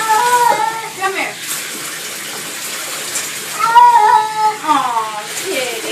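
A cat in a bathtub gives a string of loud, wavering meows and yowls during its bath, while running water from the tap hisses steadily underneath.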